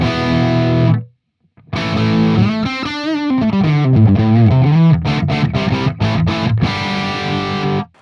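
A high-gain electric guitar played through a TONEX amp model rings out with heavily distorted sustained chords and bending notes, a brief silence early on, then choppy stabs near the end.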